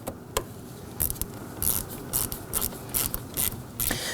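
A ratchet wrench tightens the battery terminal nut on a 2018-2024 Toyota Camry, with quiet clicking strokes in short repeated bursts close by.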